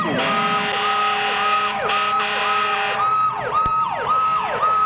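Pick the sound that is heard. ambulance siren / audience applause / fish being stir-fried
ambulance siren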